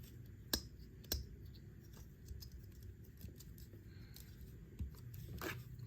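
Plastic Transformers Legacy Evolution Insecticon Shrapnel figure being transformed into robot mode, with a few sharp, close clicks of panels snapping scattered over quiet handling noise.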